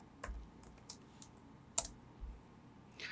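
Light typing on a computer keyboard, a handful of sparse key clicks spread out with one sharper tap in the middle, quiet and close with no talking.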